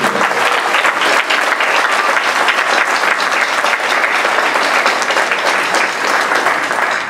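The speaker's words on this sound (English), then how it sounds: "Just want to give a big round of applause to them." An audience at a percussion camp concert applauds the bass drummers, loud sustained clapping from a crowd with a few cheers mixed in, continuous for several seconds.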